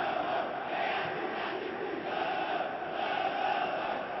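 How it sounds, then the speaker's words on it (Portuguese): Stadium crowd at a Brazilian football match between América RN and Potiguar, a steady distant roar of mixed applause and boos rising and falling over about four seconds, with no commentary heard over it. "ouviu um misto de aplausos e vaias"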